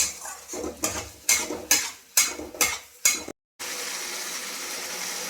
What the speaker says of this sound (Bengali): এটা মশলাটা ভাজা ভাজা হোক।